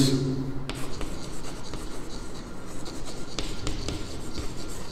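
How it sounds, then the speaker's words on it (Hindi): Pen or marker scratching steadily across paper while working a linear equations math problem, close and continuous with short strokes and pauses, no talking. "मैं लिखता हूँ"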